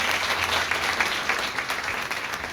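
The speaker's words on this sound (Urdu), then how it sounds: "ایک دفعہ پھر زوردار تالیاں کلام کے لیے" A church congregation at a Good Friday service claps continuously, a full, even wash of applause throughout with no voices standing out.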